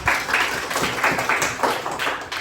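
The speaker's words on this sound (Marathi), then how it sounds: "आता या तिघीसाठी सर्वजण टाळ्या वाजवा." A classroom of children claps for three classmates, a short burst of brisk, somewhat uneven applause with a loose rhythm, close and loud.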